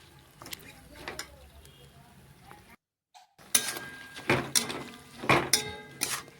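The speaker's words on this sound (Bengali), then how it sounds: "একটু নাড়াচাড়া করে নিচ্ছি।" Kulekhara greens and potatoes being stirred in a pan, with a faint scrape, then a brief silence and several sharp metallic clinks and knocks of utensil against pan, close and loud.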